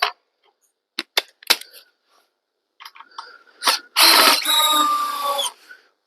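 DeWalt DCF601 cordless screwdriver on a 5 Ah battery, heard in short separate bursts and ticks before one longer steady run of about a second and a half near the end, close and alone.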